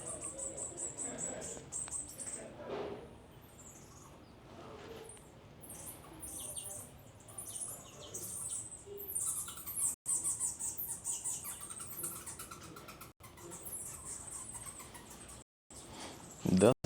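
High chirps and squeaks from bats or birds echo inside a stone tower of an Angkor temple in Cambodia, many overlapping calls against a noisy background with people talking.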